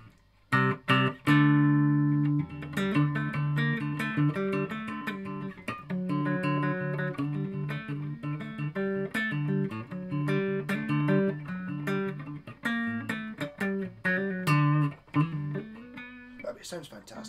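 A 2019 Squier Jaguar electric guitar plays a continuous run of picked notes and chords, clean and fairly loud, with no voice over it.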